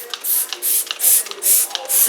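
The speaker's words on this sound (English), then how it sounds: "just spray on your sink" Bleach tile cleaner sprayed from a plastic trigger bottle onto a bathroom sink: five sharp, hissing bursts in a steady rhythm, close and fairly loud, with short gaps between pumps.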